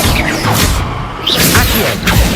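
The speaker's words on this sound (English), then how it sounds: "Expelliarmus!" Spell-casting combat in Hogwarts Legacy as the Expelliarmus disarming spell fires: a few sharp swishing bursts and impacts over a steady low game rumble, loud and close, with no voices.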